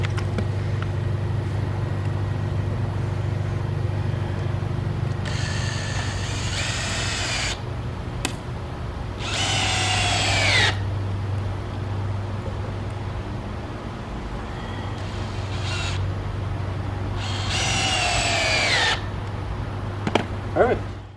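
Power drill driving screws into a wooden lawnmower ramp, several whirring bursts of a few seconds each that rise in pitch as the motor spins, close over a steady low traffic hum outdoors.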